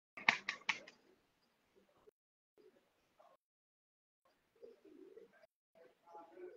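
A homing pigeon cooing close by in a short pair of throaty calls, followed by softer scattered coos and faint murmurs, quiet and intermittent in a calm rooftop setting.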